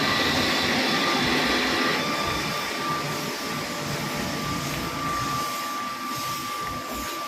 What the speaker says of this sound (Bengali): ওটা হচ্ছে কম্প্রেসার মেশিন